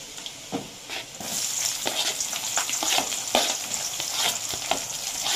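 Onions fry and sizzle steadily in a hot pan for a Telugu okra pulusu, with a broad hiss punctuated by repeated stirring scrapes and clicks; no talking.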